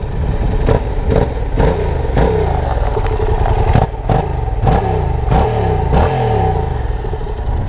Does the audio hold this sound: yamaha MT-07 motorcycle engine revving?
yes